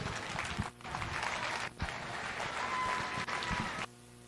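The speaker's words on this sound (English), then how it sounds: "Please give these two young ladies a nice round of applause" An audience at a junior livestock showcase at the Cache County Fair & Rodeo claps for two young ladies, a dense, steady burst of applause lasting several seconds, then it cuts off abruptly.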